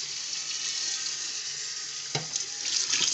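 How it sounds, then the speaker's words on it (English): Cooked hamburger meat getting a quick rinse under a running kitchen tap while making sloppy joes: a steady, close hiss of water that splashes and spatters more unevenly near the end. "And carefully, without burning myself, give this a quick rinse."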